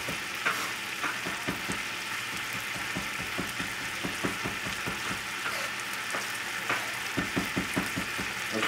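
Escargot snails sizzle steadily in a frying pan, a continuous broadband hiss broken by frequent clicks and taps of a utensil against the pan, with no voices.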